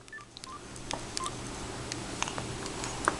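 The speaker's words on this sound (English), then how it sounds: "Who are you calling now, Gabby girl?" Telephone keypad dialing tones from a child's toy or phone, a series of short, fairly faint beeps spaced irregularly over steady room noise.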